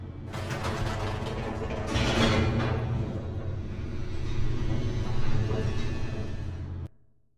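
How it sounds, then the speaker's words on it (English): Mechanical rumble of an elevator descending in the video game The Stanley Parable, a steady grinding, ratcheting drone that swells slightly midway and then cuts off abruptly near the end. "The elevator raced downward, plummeting towards an unknown fate."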